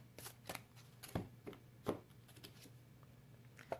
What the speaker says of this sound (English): These round decks are difficult for me to shuffle because my hands are very small.